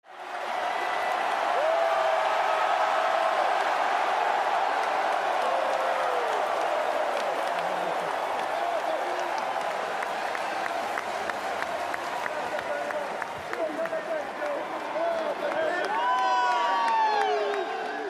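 Boston Celtics fans roaring and cheering after winning the championship, a loud, sustained arena crowd with clapping and scattered whoops that swell again near the end.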